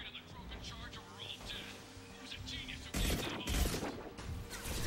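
Enemy gunfire in the video game Mass Effect 2, a steady rattle of shots and impacts under a talking voice, swelling into a louder, denser burst of fire toward the end.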